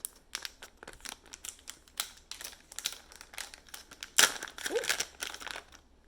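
A Makeup Drop makeup package is opened by hand with close crinkling and tearing of the wrapping in quick irregular bursts, then a sharper rip near the end, with no talking.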